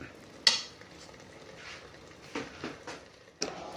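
A spoon stirs chicken saalna in a pan over a low flame, giving a few soft scrapes and taps against the pan over a quiet, steady background.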